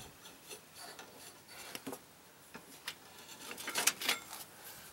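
A drive belt slides off the pulley of a 42-inch MTD mower deck with faint rubbing and scraping, scattered light clicks and rasps coming close and quiet amid near silence.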